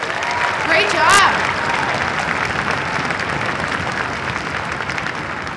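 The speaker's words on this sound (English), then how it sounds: "Another round of applause." Audience applause at a school music department's annual string jamboree, a steady wash of clapping from a large crowd lasting the whole stretch, with a brief squeal near the start.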